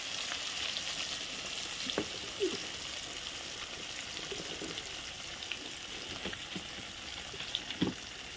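Spice-coated fish frying slowly in plenty of oil over a wood fire, a steady soft sizzle with a few sharper pops and spatters, close by and without talk.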